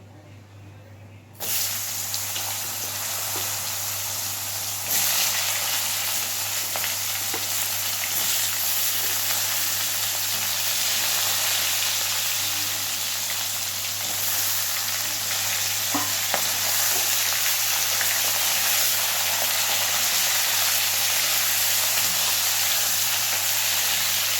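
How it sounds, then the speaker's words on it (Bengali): Chunks of potato and pointed gourd frying in hot oil, giving a loud, steady sizzle that bursts in suddenly and holds as a dense, continuous hiss, with occasional faint stirring sounds. "তো এবার ওই তেলের মধ্যে আমি আলু পটলটাকে ভেজে নেব।"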